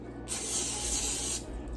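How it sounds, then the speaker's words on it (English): Cooking oil sprayed into an air fryer basket before chickpeas go in: one close, continuous hiss of about a second, alone against a quiet kitchen background. "Always spray the air fryer"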